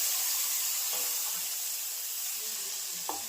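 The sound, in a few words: tempering (vaghar) sizzling for kadhi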